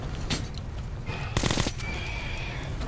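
Gunfire from a machine gun in the video game Metro Last Light, a dense burst of rapid shots around the middle of the clip over a steady background din.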